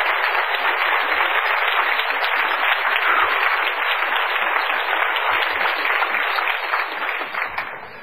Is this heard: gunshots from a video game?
no